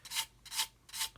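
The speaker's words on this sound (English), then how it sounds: "sanding at an angle, sanding in one direction" Coarse 100 grit sanding stick rubbed back and forth at an angle in one direction on a nail, three quiet rasping strokes in steady rhythm, close up and alone.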